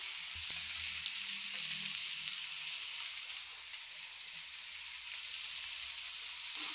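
Carrot chitranna seasoning with grated coconut frying in a pan: a steady, quiet hiss of sizzling oil with faint low thuds at the start, continuous and even throughout.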